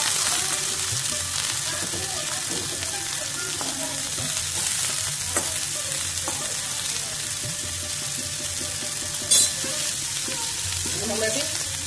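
Cut cauliflower sizzles in hot oil in a wok, a steady loud frying hiss with occasional stirring scrapes and a short sharp clink near the end.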